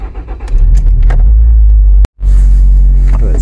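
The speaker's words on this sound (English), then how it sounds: "start the old car up" An old car is cranked over and caught into a steady, loud, low engine idle, broken by one brief dropout, with small clicks and jingles over the rumble.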